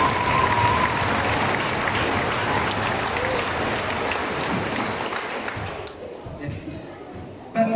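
A crowd at a live show applauds the association Acte 3 and its sound and lighting crew, sustained loud clapping with mixed voices and chatter that gradually thins out toward the end.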